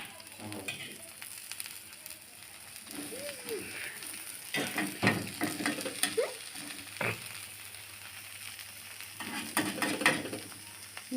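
Nalleru dosa batter with grated carrot and coriander poured onto an oiled pan, crackling and sizzling in irregular bursts with scraping, clattering utensil sounds close by.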